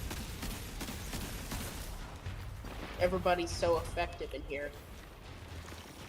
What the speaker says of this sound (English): Explosions and takedowns all over the place.